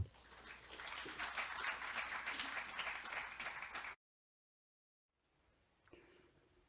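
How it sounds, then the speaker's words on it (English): Audience at an academic conference day applauds for a guest professor, a steady mass of clapping lasting several seconds before cutting off abruptly, followed by silence and faint room noise. "Please join me in giving Professor Dr. Perez Hernandez a warm round of applause"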